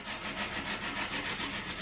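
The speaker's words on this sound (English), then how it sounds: "I'm just sanding something." Steady rhythmic sanding strokes rasp back and forth on an item being upcycled in a home DIY job, close and continuous with no talk.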